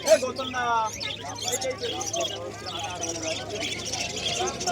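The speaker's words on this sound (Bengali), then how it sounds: "আর এই যে অভিদার কাছে একটা পায়রা আছে, দেখো পায়রাটা 35 পায়রা" Bird chirps and faint pigeon cooing mix with a busy crowd of voices talking nearby at a bird market in Birnagar, a steady hum underneath throughout.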